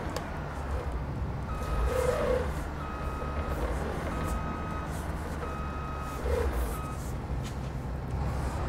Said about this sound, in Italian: Suonato il cicalino